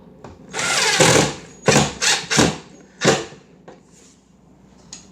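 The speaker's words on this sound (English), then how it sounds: "I'm just going to put this screw back in." A screw being driven back into a dishwasher with a power driver, several short whirring bursts of varying length, close and fairly loud, with no talking.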